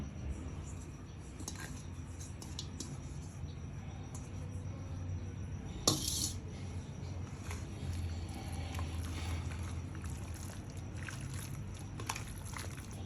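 Chicken being mixed with curd by hand for a marinade: soft, wet squelching and sloshing, quiet and close, in a steady irregular rhythm with a brief sharper clatter midway.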